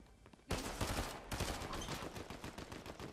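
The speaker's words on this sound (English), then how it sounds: "Somebody is shooting me through the wall." Rapid gunfire coming through a wall in the video game Fortnite bursts in after a half-second lull, then rattles on as dense, loud automatic fire with no voices.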